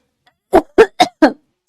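Four quick, harsh coughs from a woman in a rapid burst, close and loud, with silence before and after.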